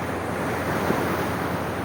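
Sea surf rolls steadily against the shore, a continuous broadband wash with wind buffeting the microphone and no voices.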